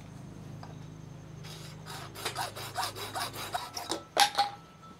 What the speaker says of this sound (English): I'm going to cut another shorter PVC to put underneath.